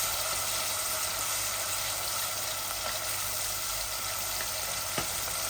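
Onions fry in a pan, making a soft continuous sizzle with faint stirring and a small tap near the end, fairly quiet and steady without talk.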